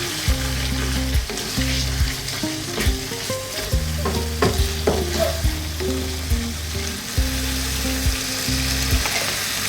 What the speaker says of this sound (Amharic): ከዛ በርበሬያችንን በደንብ አድርገን እንጠብሳለን ማለት ነው።